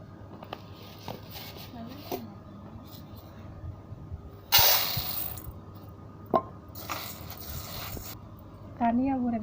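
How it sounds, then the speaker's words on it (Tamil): Urad dal being rinsed by hand in water in a home kitchen, with soft splashing and swishing, a brief louder rush of water midway and another near the end, faint background voice pitches. "இப்போ உளுந்த கழுவிடலாம்."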